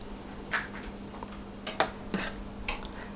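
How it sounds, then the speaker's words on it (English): Whisked eggs stirred inside a metal muffin tin, a few close, sparse clinks and scrapes of a utensil against the cups, fairly quiet, with no talking. "Stir it up a little bit, okay?"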